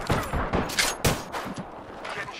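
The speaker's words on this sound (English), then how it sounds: "Damn. Getting shot at." Rapid gunfire bursts from a video game firefight, close and loud, with several sharp cracks close together and no voice over them.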